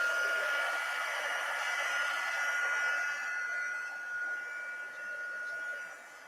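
A hair dryer blows steadily on a dyed paper Easter egg, a close continuous whirring hiss with a faint tonal whine, easing slightly in loudness toward the end, with no speech.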